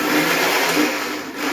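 Kitchen mixer grinder running on garlic chutney with a little water added, a loud, steady whirring grind held close for a brief moment, with no voices.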